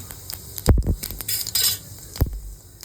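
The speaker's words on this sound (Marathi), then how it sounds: "आता आपण त्यात तेल टाकूया, जिरं टाकूया" Oil and cumin seeds go into a hot pan, giving a few sharp metallic clinks and short bursts of crackling sizzle, close and fairly loud, with no talk.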